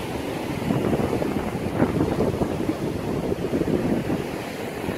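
Ocean surf on a Gold Coast beach at Coolangatta, Queensland, a steady broadband wash of breaking waves with wind buffeting the microphone, continuous and fairly loud throughout with no talking.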